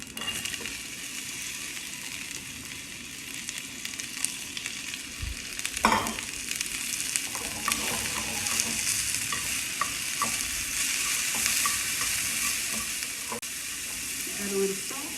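Carrots and bean sprouts stir-frying for Korean japchae, a steady sizzle with scraping and stirring clatter throughout, one sharper knock near the middle, with no talking.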